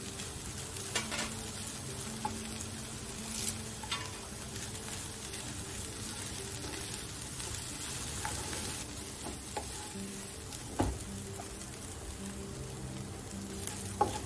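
Steady sizzling and frying of a Kerala-style drumstick leaf and egg stir fry in an uncovered pan, with intermittent scraping and clinking of a spoon stirring throughout, close and continuous, no voices.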